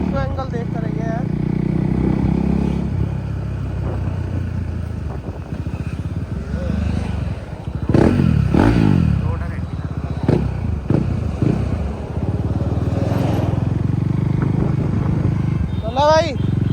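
A KTM Duke 390 motorcycle idles and rides with a steady low engine rumble, revving up in the middle, while someone talks over it throughout.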